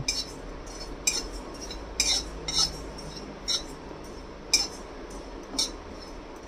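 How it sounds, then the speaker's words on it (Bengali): Sharp, sparse crackles and pops of cumin seeds dry-roasting in a hot pan without oil, at irregular intervals, close by and fairly quiet, with no talking. "জিরেটা চটপট আওয়াজ শুরু করে দিয়েছে।"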